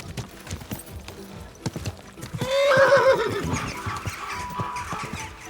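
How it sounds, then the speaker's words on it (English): A horse in Kingdom Come Deliverance 2 clip-clops steadily close by, then gives a loud, drawn-out whinny partway through before the hooves settle back under faint other sounds. "Easy, good horse."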